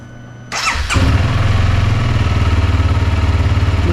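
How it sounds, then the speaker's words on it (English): A Honda CRF300L dual-sport motorcycle cranks briefly and fires up loud and close, then settles into a steady, rhythmic idle thumping with no voices. "I'll go ahead and start the bike"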